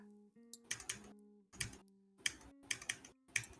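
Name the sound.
typing on a mechanical keyboard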